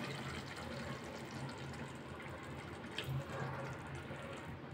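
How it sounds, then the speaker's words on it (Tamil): A steady stream of water pours into a cooking pot of chicken masala for several seconds, a soft rushing pour without pauses, nearby and fairly quiet. "தண்ணி சேர்த்துடலாம்."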